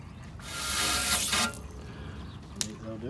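Water gushes loudly into an old, dirty fish tank being rinsed out for about a second, then tapers off into lighter splashing and a brief clatter, close by.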